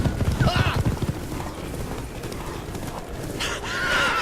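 Roach, Geralt's horse in The Witcher 3 game, gives a loud whinny at the start with clopping hooves underneath, then trotting continues at a steady rhythm under voices talking, with another neigh rising near the end.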